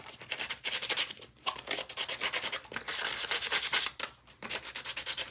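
Sandpaper rubbed by hand over a plastic item, a steady run of scratchy back-and-forth strokes with brief pauses, close and clear with no talking.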